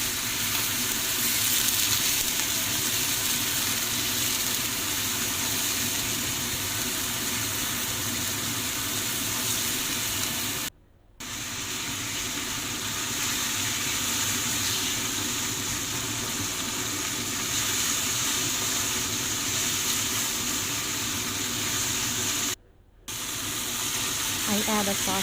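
Meat cooking in a pan for a quick spaghetti with a splash of water added, giving a steady, close broadband sizzle and hiss that runs continuously, broken by two brief silent gaps.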